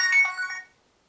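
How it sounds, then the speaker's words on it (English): A mobile phone ringtone chimes in a quiet room, a short bright melodic burst of roughly half a second that stops abruptly and leaves near silence. "There's my phone."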